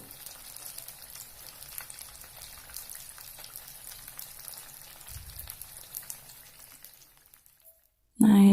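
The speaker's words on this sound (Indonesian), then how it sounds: "udah mulai goreng daging filetnya" Gourami fish fillet sizzles and crackles while frying in a pan, a steady fine spatter at moderate distance that stops abruptly near the end as a voice begins.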